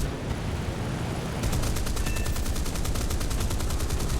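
Rapid, rhythmic burst of aircraft gunfire from an XP-55 fighter in War Thunder, starting about a third of the way in and hammering steadily over a constant engine drone, loud and close with no talking.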